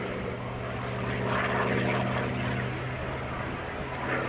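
A propeller aircraft with a large air-cooled piston engine banks overhead at Dunsfold, its steady droning hum rising and falling slightly as it passes at moderate distance.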